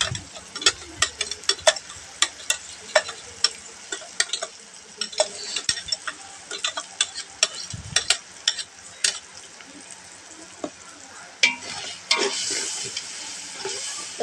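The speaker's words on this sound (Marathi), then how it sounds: "आता ग्रेव्ही टाकलाय त्याच्यामध्ये, आता त्या व्यवस्थित फ्राय करून घेणार आहे." Chicken biryani gravy frying and being stirred in a pan, steady sizzle broken by frequent sharp scraping and clinking strokes of the spoon, close and fairly loud, with no talk.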